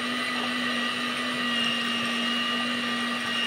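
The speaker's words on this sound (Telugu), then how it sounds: "చూసారు కదా ఫ్రెండ్స్, ఇలా బ్లెండ్ చేసుకోవాలి" A kitchen blender whirs through a mint chocolate chip ice cream mixture, a loud steady motor hum with a constant high whine that continues unchanged throughout, with no voices.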